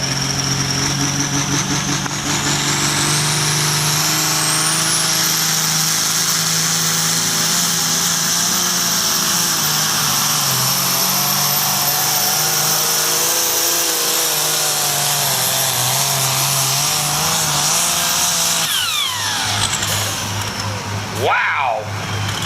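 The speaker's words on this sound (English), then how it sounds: "driving the Fast Forward New Holland, Mr. Matt Smith." A New Holland tractor pulls a sled at a tractor pull, its engine roaring loud and sustained with a rising whine, then dropping off near the end as a commentator talks over it.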